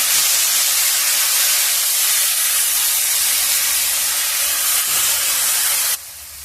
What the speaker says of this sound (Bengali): আমটা দিয়েও আমি একটু নেড়ে নেব।